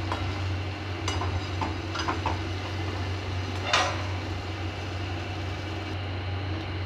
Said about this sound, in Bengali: ভালোভাবে নাড়াচাড়া করে আবার একটু ঢাকিয়ে দিয়ে রাখবো।